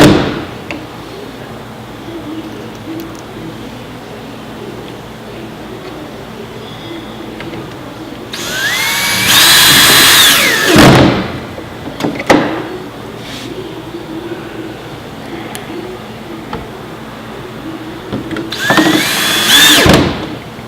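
Two bursts of a power drill driving screws into a door during assembly: a whining spin lasting a couple of seconds, a pause, then a second similar run near the end, over a quiet background.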